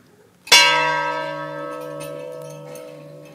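A single ceremonial bell toll at a Hillsborough County first-responder graduation ceremony: one sharp, loud metallic strike that rings out with a long sustained decay, heard alone without speech.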